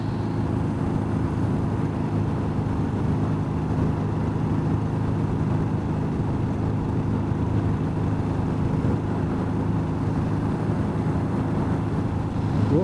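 A Bullet 500 motorcycle is ridden with a steady, continuous engine drone mixed with heavy wind rush, constant and loud throughout with no voices.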